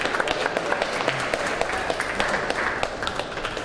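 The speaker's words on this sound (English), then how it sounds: "we get a nice little Round of applause." At a junior world championship squash semi-final, an audience applauds with steady, dense clapping that fills the court's space, moderately loud and continuous for a few seconds.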